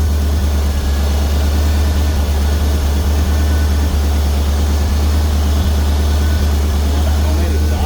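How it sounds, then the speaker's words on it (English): A steady, loud engine drone through a homemade exhaust, with a deep low rumble and raspy exhaust tone, idling continuously without change. "Homemade exhaust sounds good."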